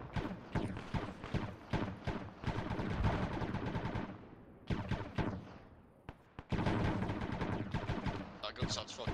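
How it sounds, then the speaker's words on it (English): Bursts of rapid video-game gunfire from a battle in Black Gold, loud and close, broken by short pauses, with players talking over the shots. "That gun sounds fucking cool, holy shit."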